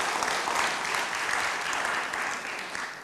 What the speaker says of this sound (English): And we need to give Dr. Messiah another round of applause for that,